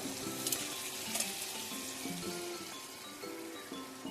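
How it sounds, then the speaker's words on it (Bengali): Garlic paste hitting hot oil in a pan for jackfruit do pyaza, a steady close sizzle and fry with soft stirring, a couple of brighter spatters near the start, no talk. "তো এর মধ্যে এবার আমি দেব 1/2 চামচ রসুন বাটা,"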